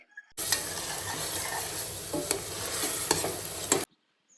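Loud, steady sizzling of tempering for pulao frying in a pan, with a few clinks of stirring, starting abruptly and cutting off after about three seconds.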